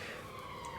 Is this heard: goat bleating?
no